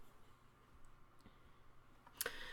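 Mouse clicks while working in architectural design software on a custom storefront, a few faint soft ticks across a quiet room, then one sharper, louder click near the end.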